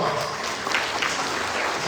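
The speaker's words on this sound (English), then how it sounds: "Can you give her please round of applause?" A community gathering during a Ramadan evening programme breaks into applause for a supporter, a dense, loud, continuous patter of many hands filling the room.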